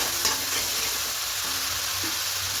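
Ingredients sautéing in a pan for chicken biryani, a soft, even sizzle heard close but fairly quiet, with faint stirring and no speech.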